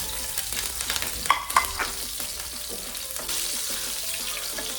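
Chopped green chillies frying in a hot pan and stirred with a utensil, a steady sizzle with scraping, clinking stirs and a couple of sharper knocks against the pan.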